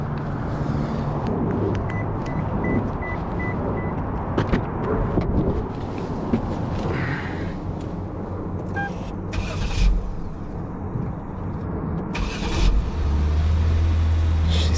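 A Lexus IS250 cranking over on a newly replaced starter and then running, a steady engine rumble that continues throughout, recorded close by outdoors.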